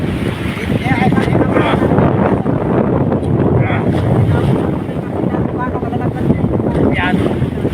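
A small boat crosses big waves in strong wind while delivering a parcel, with continuous loud wind buffeting and water rush filling the whole span, and voices faintly beneath.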